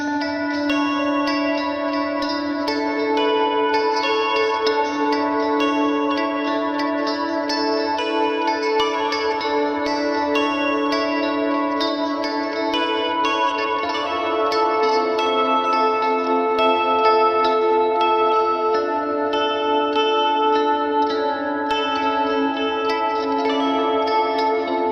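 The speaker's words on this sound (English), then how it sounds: "Next up in the TSAC 4K is a Fender Twin Reverb emulation. I use this for ambient clean parts." Clean electric guitar through a NUX Fender Twin Reverb amp emulation, playing ambient chords with sustained, shimmering tones and echo, steady and loud for the whole stretch with no talking.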